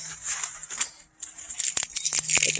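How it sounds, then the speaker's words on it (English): Car keys for a BMW E30 M3 jangle and clink in a quick burst of small metallic rattles, close and fairly clear, with a brief pause partway through and no talking. "Make sure I have the keys."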